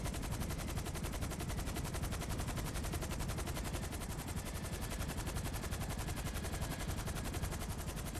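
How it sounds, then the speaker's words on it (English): Continuous rapid automatic gunfire rattles without pause in a FiveM roleplay video game, a loud, steady stream of shots from close range with no speech over it. "Oh, I'm getting shot at."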